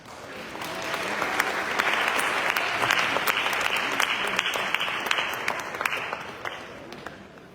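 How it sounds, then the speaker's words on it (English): Sustained audience applause at a Black History celebration at Edgecombe Community College, a dense wash of many clapping hands that swells early and holds steady before easing off near the end. "Applause for our program."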